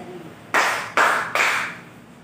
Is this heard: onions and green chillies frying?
no